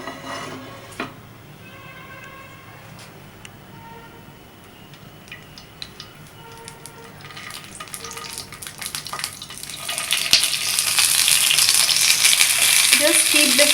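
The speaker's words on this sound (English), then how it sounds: "Now we have stuffed the tomatoes and ready to saute them." Stuffed tomatoes start sautéing in two spoons of heated oil, quiet clinks and handling at first, then a rising hiss of sizzling that grows loud and steady toward the end.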